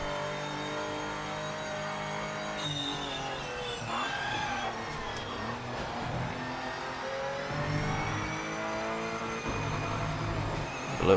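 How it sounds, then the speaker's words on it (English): Race car engine in Project Motor Racing climbing repeatedly to its rev limit, with rising and falling tonal sweeps across gear changes and steady engine drone throughout, no talk. "But it reaches the rev limit very quick, doesn't it?"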